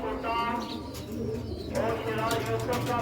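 A pigeon coos close by, soft throaty repeated calls over a steady background, while someone talks in between.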